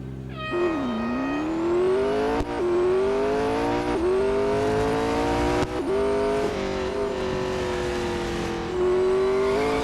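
The McLaren 720S GT3 race car in Real Racing 3 screams at high revs, its engine note climbing steadily with brief dips at each gear shift, loud and continuous with no talk.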